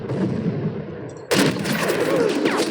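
Bursts of rapid gunfire crackle from a sniper video game, sudden and loud after a quieter stretch, continuing in dense volleys.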